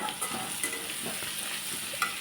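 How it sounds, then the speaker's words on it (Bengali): Spices sautéing for chhyachra, a Bengali fish-head dish, give a steady close sizzle in a pan with light stirring scrapes and a few soft clinks, no voices. "এখানে মশলা দিয়ে সুন্দর করে কষিয়ে নিলাম"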